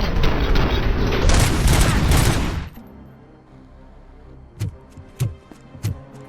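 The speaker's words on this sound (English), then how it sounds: "you threw a guy and he exploded" A loud, dense burst from a RoboCop Rogue City gunfight, a sustained roaring blast of about two and a half seconds, then quieter ambience broken by three sharp, separate impacts.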